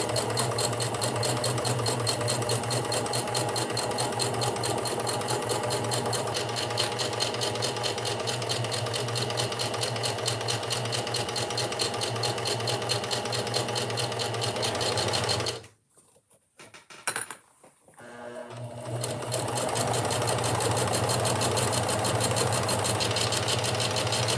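A sewing machine runs steadily late at night with a continuous buzzing, whirring motor. It stops for a few seconds near the end, then starts up again at the same close, even pace.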